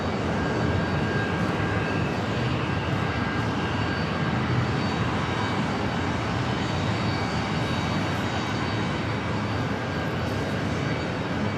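An airliner takes off from JFK toward Boston with a steady broad jet roar, continuous and fairly loud, without talk.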